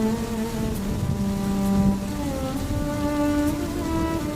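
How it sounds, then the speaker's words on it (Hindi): Heavy rain pours in a steady, dense hiss with no voices, a constant downpour filling the scene from start to finish. "बारिश बहुत तेज है।"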